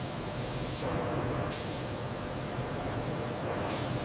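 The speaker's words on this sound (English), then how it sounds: "A durable outer paint is applied." Steady hissing spray as outer paint is applied to a deep freezer in a factory, a continuous airy rush with brief changes in tone, no voices.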